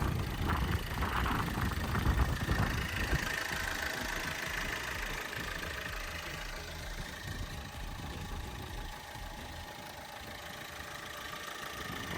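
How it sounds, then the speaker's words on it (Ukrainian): An Opel Zafira Tourer C 1.6 CDTI diesel engine idles continuously at close range, a low, even rumble with a faint mechanical knock, no voices. "Двигун працює рівно"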